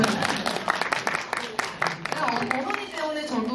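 An audience at a film screening Q&A in a Megabox cinema at COEX breaks into a short burst of clapping, crisp and fairly close, while voices talk over it and the claps thin out toward the end.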